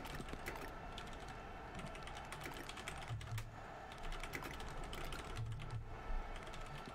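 Steady, rapid keystrokes clatter on a computer keyboard during a trivia game in Tower Unite, a busy rhythmic tapping that runs the whole time at moderate volume with no voice over it.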